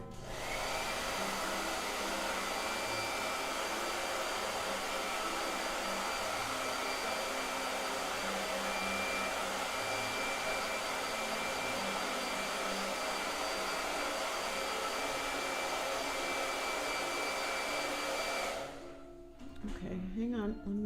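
A hair dryer blowing steadily on a gouache painting, a loud continuous close whir running for nearly the whole stretch before clicking off, with a voice talking faintly underneath.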